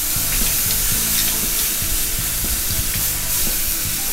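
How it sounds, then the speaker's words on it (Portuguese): Prime rib searing in a hot pan on its freshly flipped side, giving a loud, steady sizzle with crackling spatter all the way through. "vamos agora virar o nosso prime rib para selar o outro lado"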